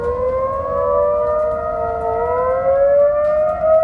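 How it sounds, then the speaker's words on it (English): Wailing civil defense emergency sirens across Dallas, Texas drone loudly and steadily at night, their tones slowly gliding upward, with no voices. "setting off every emergency siren in Dallas, Texas at once in the middle of the night"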